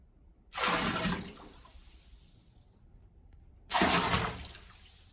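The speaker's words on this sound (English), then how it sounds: "taking a Tupperware full of water and pouring it into a bathtub" Two separate pours of water from a Tupperware container splash into a bathtub, each a close, loud gush that fades into a trickle.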